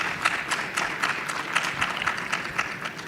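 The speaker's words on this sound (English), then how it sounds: "Hearty round of applause to our panelists." Audience at a power electronics conference in Kenya applauding the panelists, a steady wash of many hands clapping at moderate distance, continuous for a few seconds with no talk over it.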